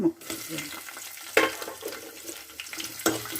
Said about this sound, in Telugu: ఇవి ఇప్పుడు ఎర్రగా ఏగనిద్దాం అన్నమాట.